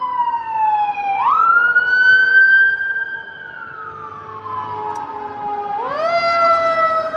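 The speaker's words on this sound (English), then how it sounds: "Ambulances and fire trucks, so that's never a good thing." Emergency sirens from ambulances and fire trucks pass by outdoors, wailing and sweeping up and down in pitch. They swell louder, ease off briefly, then rise again in a second wail.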